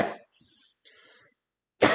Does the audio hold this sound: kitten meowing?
no